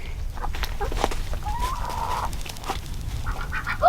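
Several chickens cluck and squawk close by, with short scattered calls and one drawn-out squawk over faint background rustling.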